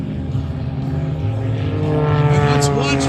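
Propeller airplanes performing a three-ship formation routine at the 2024 Owensboro Air Show drone steadily overhead, a loud continuous engine hum that swells slightly over the seconds, with an announcer's voice over the loudspeakers.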